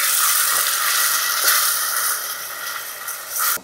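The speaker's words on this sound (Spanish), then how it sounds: "Vamos a sofreír bien los ajíes" Ají amarillo and ají panca pastes frying in a pot for a chicken stew, a loud, bright, continuous sizzle and hiss close up, easing slightly then flaring again near the end.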